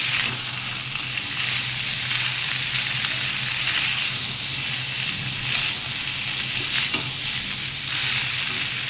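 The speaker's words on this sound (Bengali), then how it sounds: "হলুদ দিয়ে এটাকে আরেকটু ভেজে নেব।" Broccoli and new potatoes fry with turmeric in a pan, giving a steady, close sizzle with stirring scrapes throughout and no voices.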